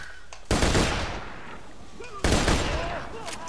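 Two loud bursts of weapon fire in the video game Borderlands 2, each a sharp blast trailing into a long decaying rumble, with faint game tones in between.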